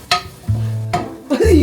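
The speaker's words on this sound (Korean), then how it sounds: "네, 이렇게 볶아주세요." Meat with the blood drained being stir-fried in a home pan: a loud close scrape of a utensil, then low sizzling and stirring clatter, with a couple of sharp clicks in between.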